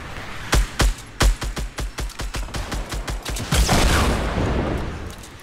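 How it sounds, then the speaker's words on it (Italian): Rapid gunfire in Fortnite, around twenty loud, close shots in uneven bursts, first spaced then quickening into a dense run that ends in a louder, longer rumbling blast. "Stanno sparando sotto"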